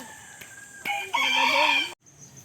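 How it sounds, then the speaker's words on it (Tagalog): A rooster crows loudly and close by, a single drawn-out call preceded by a few short clucks, with faint background noise. "Nakahuli kami ng dalawang manok."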